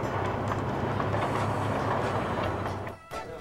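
Train rolling along rails in the Trainz railway simulation game, a steady continuous rumble with faint rhythmic wheel clatter that drops away briefly near the end.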